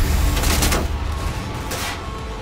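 Automatic gunfire from a gun running out of ammo in Cyberpunk 2077: continuous loud rapid shots that thin out and stop, with one later isolated report amid constant game noise.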